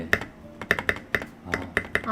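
A custom-built mechanical keyboard gives about eight crisp, hollow key clacks in a slow, uneven rhythm, heard close up in a quiet room.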